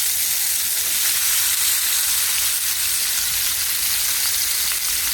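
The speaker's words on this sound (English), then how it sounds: "Alright, so I'm going to start frying up the tomato" Tomato and onion fry in a hot pan with a steady, dense sizzle that stays loud and unbroken, and no one speaks.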